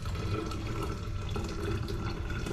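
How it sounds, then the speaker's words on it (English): Hot mulberry herbal tea pours steadily into a glass jar, a continuous splashing rush of liquid lasting a couple of seconds, close and fairly loud with no talk. "And then I just pour it in and let it cool down."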